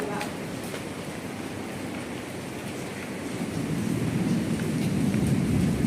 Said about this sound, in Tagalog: Oh, malakas ang ulan.